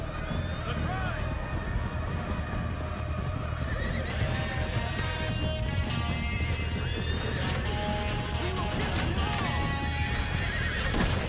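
Galloping horses in Red Dead Redemption 2, with loud repeated whinnying and neighs over dense, rapid clip-clop hoofbeats; shouting voices come in and out over the busy, continuous ride.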